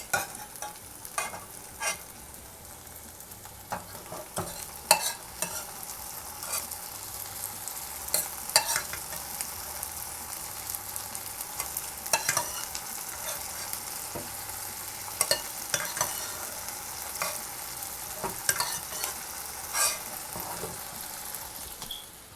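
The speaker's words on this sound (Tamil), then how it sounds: "இப்போ இந்த கறியை வந்து நம்ம இந்த கடாயில் சேர்த்துடலாம்." Cooked mutton fries in a kadai for a village-style thokku, with a soft continuous sizzle and frequent sharp clinks and scrapes of a spoon stirring against the metal pan, close and steady with no talk.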